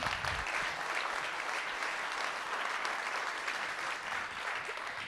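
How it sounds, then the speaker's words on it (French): Loud, dense applause from an audience at a political meeting on municipal elections in Nantes, a continuous wash of clapping lasting throughout without speech. "On peut l'applaudir très très fort s'il vous plaît."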